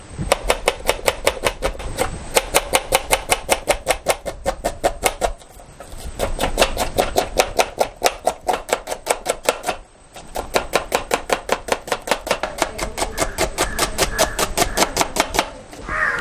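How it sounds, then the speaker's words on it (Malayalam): A knife chops through a big batch of onions, six kilos' worth, on a board, making rapid, evenly spaced loud strokes in long runs broken by two brief pauses. Close and steady throughout, with no talking. "6 കിലോ സവോള നമ്മൾ എടുത്തിരിക്കുന്നത്. അപ്പോൾ അത് നമുക്ക് കട്ട് ചെയ്തിട്ട് സെറ്റ് ചെയ്യാം"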